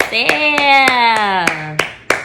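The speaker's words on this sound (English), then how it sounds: "Give a round of applause for yourself." Several sharp, separate hand claps land at irregular intervals, close and crisp, over a sustained tonal voice that holds underneath.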